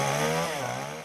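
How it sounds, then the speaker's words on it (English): A chainsaw cutting big tree branches into segments during a storm cleanup, its loud, close engine whine holding steady then dipping slightly in pitch as it bites into the wood. "The chainsaw was especially useful to cut up the bigger branches into segments"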